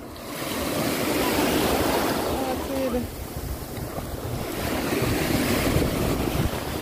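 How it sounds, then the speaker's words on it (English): Ocean waves rolling and churning under heavy wind buffeting the microphone, a loud continuous roar with a faint tone briefly sounding midway. "Waves and big waves."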